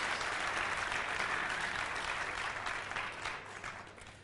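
A conference audience at a national cooking congress breaks into loud, continuous applause that fills the hall and slowly tapers toward the end.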